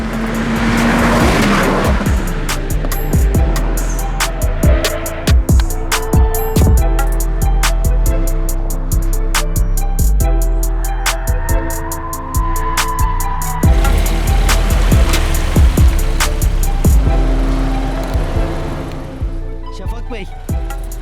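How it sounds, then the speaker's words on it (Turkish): Tyres squeal repeatedly on a race track as a car is pushed hard through corners on its first session, with a loud engine droning and revving throughout and occasional voices underneath. "Ben hayatımda bu kadar öten bir lastik duymadım abi."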